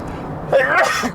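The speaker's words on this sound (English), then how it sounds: "Hold on, I gotta sneeze. Shit. I gotta sneeze again." A single close, forceful sneeze with a sharp breathy burst, preceded by a brief intake of breath.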